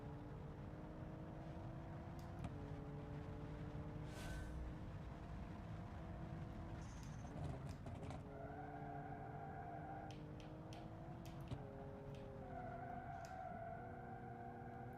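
A very quiet race car engine in a racing video game, a faint steady hum whose pitch steps up and down through gear changes, with occasional light clicks over the drone.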